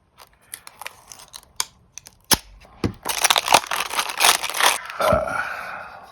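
Cheap knife packaging being cut open, starting with sparse snips and clicks, then building into dense crinkling, scraping and tearing of plastic and cardboard at close range.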